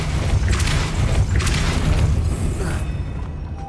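Depulso spell cast in Hogwarts Legacy, a loud booming force blast with a couple of whooshing surges and mechanical rumble, fading after about three seconds.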